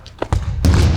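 A football is kicked outdoors during a casual kickabout, giving a couple of soft thuds followed by a louder, close impact with some broadband rustle and noise.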